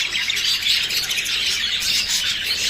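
A small bird chirps and twitters rapidly and continuously at close range, a busy stream of high tweets with no other sounds.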